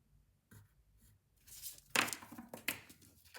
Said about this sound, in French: vous prenez votre plioir et vous venez marquer ici tous les petits plis en haut, comme ceci